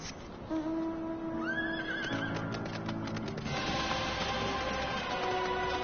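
A horse mount in an online fantasy game whinnies loudly and clearly, its neigh rising and falling, followed by a run of hoof clip-clops and game music.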